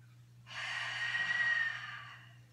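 A single long, breathy exhale, close and soft, made while holding a yoga cat pose, rising and fading over about two seconds against a low steady hum.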